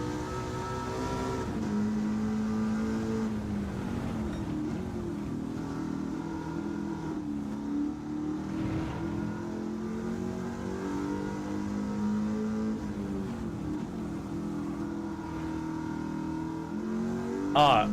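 A race car engine in Gran Turismo 7 revs with a low grumbling tone, rising and falling steadily through gears, loud and close throughout with a sharp burst at the end.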